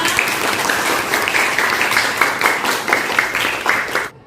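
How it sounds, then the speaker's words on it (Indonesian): A classroom of students claps together in sustained, evenly spread applause, fairly close, cutting off abruptly at the end. "Berikan aplaus semuanya."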